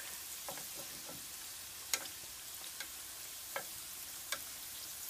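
Chebureki frying in hot oil in a pan, a quiet steady sizzle with occasional sharp spits and pops as oil is spooned over the top.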